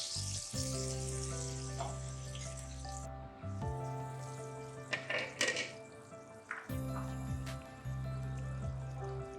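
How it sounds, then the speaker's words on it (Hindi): Water mixed with chickpea cooking liquid boils in a kitchen pot for achari chana pulao, giving a steady bubbling sizzle with occasional clinks of utensils and a constant tonal hum behind it. "पानी ऐड किया था, इसको उबाल आ गया।"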